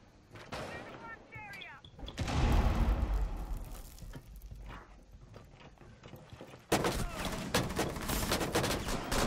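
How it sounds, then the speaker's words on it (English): Video game gunfire pours through windows in loud, dense bursts of overlapping shots and impacts, with a sharp surge near the end, while players talk over the action. "They're shooting through the windows."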